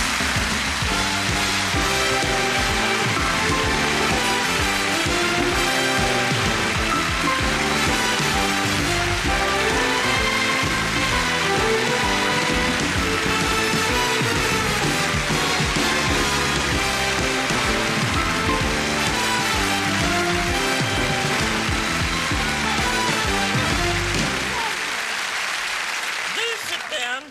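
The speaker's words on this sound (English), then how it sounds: "A big round of applause for Patrick" Studio audience applause for photographer Patrick Lichfield on a 1987 Dame Edna Experience TV talk show: dense, sustained clapping that stays loud and steady for about twenty-four seconds, then stops abruptly.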